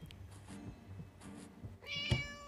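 Cat meowing inside the horror prank game Scary Teacher 3D, with faint game ambience before a single short, fairly close meow near the end.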